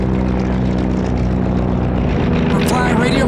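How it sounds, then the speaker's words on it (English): An AT-6 racing plane, number 66, roars past during the Gold air race in 2019 as a steady, loud, dense engine and propeller drone that holds throughout, with an announcer talking over it. "Up and away on that number 66 airplane gunslinger"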